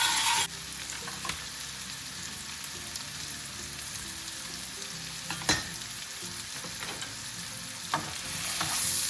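Onions frying in butter in a pan for egg masala curry, a soft steady sizzle with a few sharp stirring clicks, fairly quiet and without voices.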